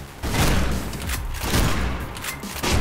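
Gunfire in the first-person game Mirror's Edge, a loud sustained barrage of rapid shots with booming impacts, continuous and close for nearly three seconds.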